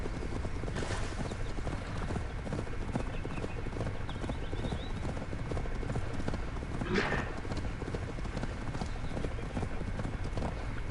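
A horse's hooves clip-clop at a steady trot in the video game Assassin's Creed Valhalla, with a brief whinny partway through and a busy in-game ambient bed behind.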